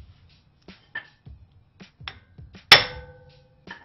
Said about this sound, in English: You put it in, turn it all the way to the left, and when you hit it, it will impact and turn at the exact same time.